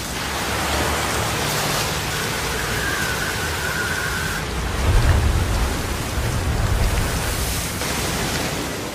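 A heavy storm over Okinawa, with dense, steady rain and gusting wind roaring loudly and without pause, swelling briefly partway through, and no voices.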